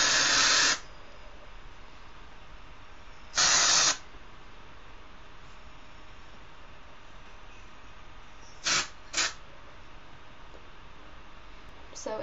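Dry shampoo sprays into hair roots in two longer hissing bursts about three seconds apart, then two quick short puffs, each crisp and close over a quiet room.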